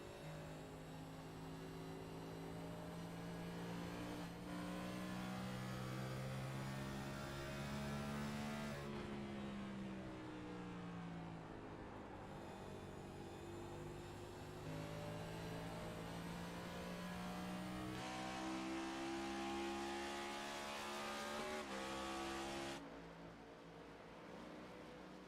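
Race car engines in the iRacing sim at Phoenix Raceway, a sustained droning roar that climbs and drops in pitch through gear changes and throttle lifts, heard steadily for the whole stretch with no talk.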